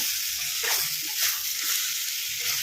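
Brinjal palya sizzles steadily in a pan while chopped coriander is stirred in, a constant close frying hiss with soft, irregular scraping of the spoon and no talk.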